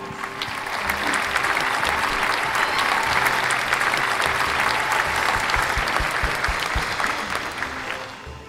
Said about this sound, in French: tenons-nous debout et bénissons Dieu par nos acclamations pour la vie de son serviteur, Johan Axel Talmas.